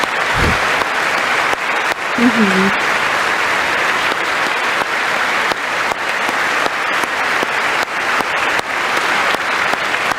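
Dense, steady clapping from an audience at a State of the Union address, picked up close on a chest-worn microphone, running continuously and loud with a few sharper nearby claps and brief indistinct voices in the mix.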